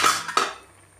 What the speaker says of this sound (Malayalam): ചേനയുടെ അടപ്പൊന്ന് നമുക്ക് മാറ്റി കൊടുക്കാം